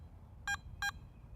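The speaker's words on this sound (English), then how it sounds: "Press and hold the iron check button and wait for the double beep." A Garrett ATX metal detector gives its iron-check double beep, two short, bright electronic tones in quick succession over a faint, quiet background.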